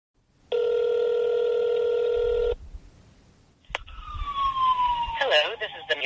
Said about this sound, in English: I hear police sirens in the background.